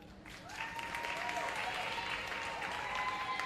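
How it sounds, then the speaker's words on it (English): Audience applause at a performing arts awards ceremony, a dense, steady wash of clapping that swells in after a brief quiet start and holds strong throughout, with a faint tonal line of other sound beneath it. "And keep that applause going again for Ashley Stewart of the Godfrey Stewart Pe"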